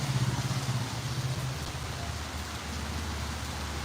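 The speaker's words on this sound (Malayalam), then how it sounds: "എല്ലായിടത്തും മഴയാണ് തകർപ്പൻ മഴ" Heavy rain pours steadily on a new highway, a dense wash of hiss throughout, with a low engine hum in the first part that fades into the continuous downpour.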